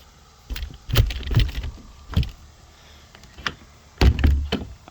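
A storage shed door is wrestled shut outdoors, giving a series of sharp knocks and thunks in irregular bursts, several clustered close together, loud and near with no talk.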